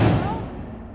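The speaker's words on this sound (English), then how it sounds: "Yo, Fred be shooting, boy." A loud, close firearm gunshot with a booming decay that fades over about a second, the shot itself at the very start.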